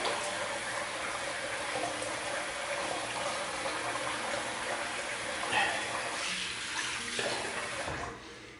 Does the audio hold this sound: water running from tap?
yes